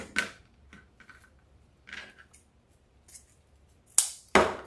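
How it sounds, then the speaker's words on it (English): Scissors cut folded ribbon for a Halloween skull wreath, giving a few sharp, close snips spaced by quiet pauses. Two of the crisp cuts land near the end. "And then we're going to cut where we folded the ribbons."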